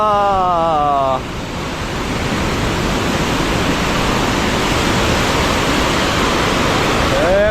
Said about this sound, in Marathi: खवळलेला समुद्र खवळलेला